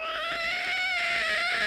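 A comedy stage performer voices a cat's yowl, imitating how its tone shifts when another cat arrives; a sustained, wavering, nasal wail carries on without a break for under two seconds.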